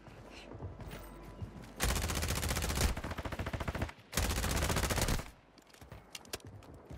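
Bursts of rapid automatic gunfire in a first-person shooter, an SMG firing two long sustained volleys separated by a brief pause, loud and close, with scattered quieter shots before them.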